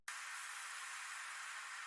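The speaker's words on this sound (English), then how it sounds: "white noise." Two-second burst of a white noise layer from future bass drums, a flat, bright hiss that starts abruptly and holds steady, alone and quiet.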